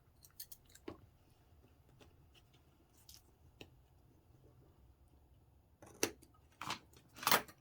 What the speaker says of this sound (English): This is a little long, so I'm going to snip that.